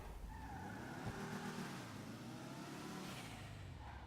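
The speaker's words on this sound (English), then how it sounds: "We'll take out the DeLorean here" A DeLorean drives in GTA Online, its engine humming steadily with rising and falling revs and a faint tire squeal, mid-level and alone without voices.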